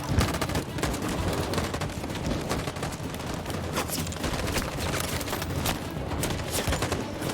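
Rapid gunfire and explosions in a video game fill the whole stretch as a dense, continuous barrage of bursts, loud and close, with a brief shout at the start.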